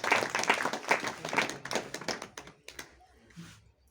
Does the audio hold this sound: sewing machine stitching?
no